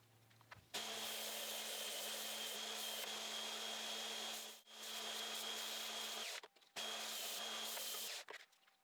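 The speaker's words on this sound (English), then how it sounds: "I'm finally done with the belt sander" A belt sander grinds down a wooden climbing hold, running loud and steady close by, with two short breaks where the motor drops out before starting again. No voices are heard over it.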